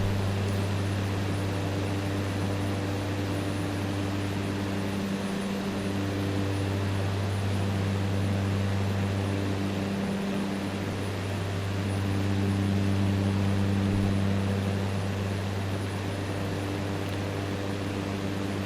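Steady, continuous propeller-engine drone from a Cessna turboprop in Microsoft Flight Simulator 2024, a constant hum with strong low tones and little change throughout, no talk.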